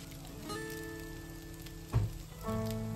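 Coconut fried rice with oyster sauce sizzling in a pan, a soft steady frying hiss with a brief stir or clank partway through, close and quiet.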